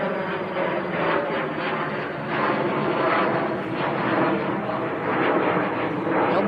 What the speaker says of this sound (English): There's another Bizjet sneaking out on us, and I never even saw that one taxi out either